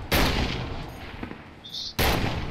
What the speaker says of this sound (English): you can see here the HE rounds